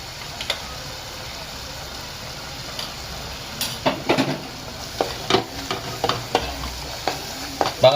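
Spices and chili fry in a hot pan with a steady sizzle, while a utensil stirs them in repeated short scraping bursts that grow busier toward the end; no one speaks.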